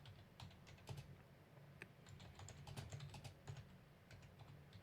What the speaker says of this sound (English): bear with me because I can't type without staring at my keyboard